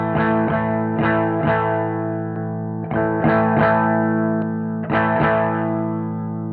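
Electric guitar run through a Strymon Riverside overdrive pedal with the gain turned all the way down, playing a series of strummed chords in a loose rhythm, with short gaps between phrases; the tone is close, sustained and mildly driven.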